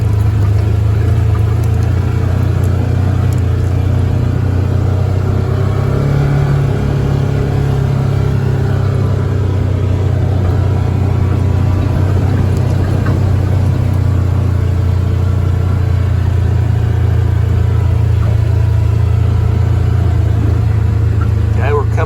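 A tractor fitted with a front bucket runs with a steady, low engine drone, holding a constant rumble with slight surges as it smooths rough ground on a rural acreage.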